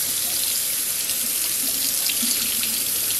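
Hot water pouring steadily from a tap onto a dirty polishing pad used on a scratched black truck, a continuous close hiss and splash with no voices.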